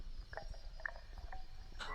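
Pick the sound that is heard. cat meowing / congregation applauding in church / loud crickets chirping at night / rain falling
loud crickets chirping at night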